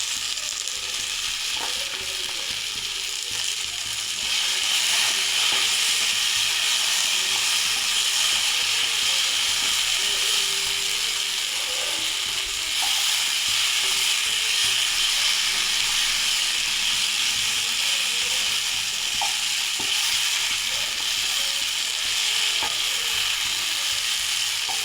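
Curry leaves sizzle in hot oil in a pan, a loud continuous hiss and crackle that swells slightly partway through, close by and steady, with no voices.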